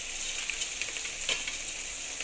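Ground masala paste for fish curry fries in a pan, a steady close sizzle with crackling bursts and a few stirring scrapes, no voices.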